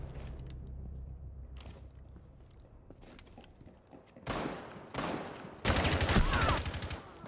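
Gunfire in a tactical shooter video game: scattered faint shots and mechanical clicks early on, then two loud bursts and a final sustained rattle of rapid fire near the end, no talk.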